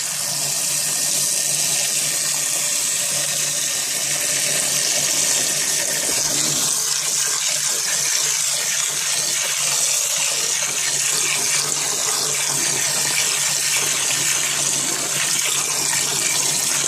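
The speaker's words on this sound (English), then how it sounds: "So now I'm going to turn on the hot water." Hot water runs from a sink tap into a bowl of dry beans, a loud, continuous rushing gush that holds steady throughout, its tone deepening slightly partway through as the bowl fills.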